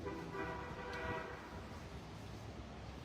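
A faint, distant horn blares in a sustained tone before fading, over a low rumbling street background.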